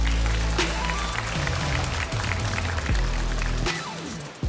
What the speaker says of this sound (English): Big applause, Lauren, ladies and gentlemen.